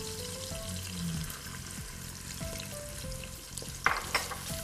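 Grated coconut, onion and chilies frying in coconut oil, a steady close sizzle with stirring clatter and a sharper scrape near the end, no voices.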